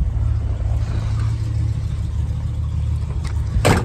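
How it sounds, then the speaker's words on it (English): A 1964 Oldsmobile Starfire coupe with dual exhaust idling, a steady low, even engine rumble heard up close, with a brief higher-pitched noise near the end. "The car is running. I love the way this car sounds."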